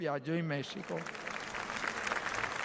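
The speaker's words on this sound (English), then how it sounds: "At talk of these causes, the crowd applauded" A vast crowd applauds at Pope Francis's funeral Mass in the Vatican. A voice speaks briefly at the start, then a dense, steady wash of distant clapping takes over.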